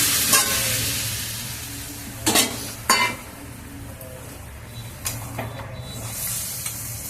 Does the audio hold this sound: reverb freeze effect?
no